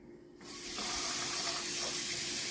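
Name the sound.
warm tap water running from faucet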